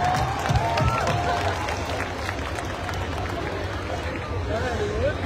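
A concert crowd at a show applauds and cheers for the lovers in the audience, a continuous wash of clapping and hubbub with voices mixed in.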